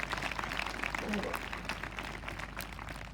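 A church congregation at a revival meeting clapping together to bless the Lord's name, a dense continuous wash of applause filling the hall at moderate distance, with voices mixed in.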